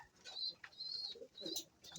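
Pigeons at a feeding spot make faint, soft cooing and calling sounds in short repeated bursts, quiet and close with no one speaking.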